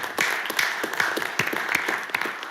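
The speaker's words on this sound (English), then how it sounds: "Let's give them a round of applause." Audience applause at a Little Rock city board of directors meeting, a steady wash of many hands clapping in a hall for a few seconds with no talk over it.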